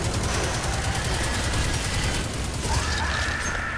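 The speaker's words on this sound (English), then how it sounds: "Running, gun blazing." Rapid gunfire from the video game Destiny 2, a dense steady stream of shots with mechanical clatter that stays loud and continuous throughout, with no talk.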